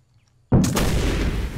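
A fragmentation grenade blast in the Arma 3 military shooter: silence, then one sudden loud explosion that rolls on as a heavy, sustained rumble.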